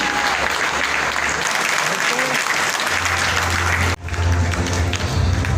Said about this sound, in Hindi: उनकी सुहास को जोरदार तालियां सुहास के लिए।